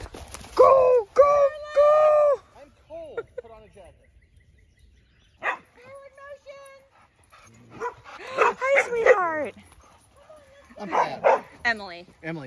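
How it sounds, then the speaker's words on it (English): Dogs play on a pack walk, giving several loud bursts of barking, yips and whimpers spread across the clip, separated by quieter gaps, with some voices mixed in. "We just finished up with our doggy walk, and Charlotte played and played and played"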